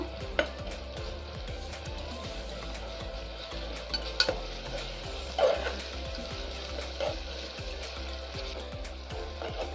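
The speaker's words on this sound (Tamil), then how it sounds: "இஞ்சி பூண்டு பேஸ்ட்டோட பச்சை வாசனை போகிற வரைக்கும் நல்லா ஃப்ரை பண்ணிக்கோங்க" Ginger garlic paste frying in a pan for mutton biryani, a steady low sizzle running throughout with occasional stirring clinks of a spoon against the vessel.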